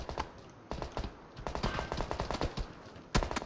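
Gunfire in the battle royale game PlayerUnknown's Battlegrounds rattles out in dense, rapid bursts of shots, with a brief lull midway and a final loud volley at the end.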